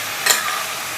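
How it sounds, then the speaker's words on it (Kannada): Chopped spinach in hot tempering oil, a steady hiss of sizzling with a brief stirring scrape near the start, close and alone. "ಪಾಲಕ್ ಸೊಪ್ಪು ಈಗ ಚೂರು ಒಗ್ಗರಣೆಯಲ್ಲಿ ಸ್ವಲ್ಪ ಅದ್ರದ್ದು ಹಸಿ ವಾಸನೆ ಹೋಗೋ ತನಕ ಚೂರು ಹುರ್ಕೋಬೇಕು"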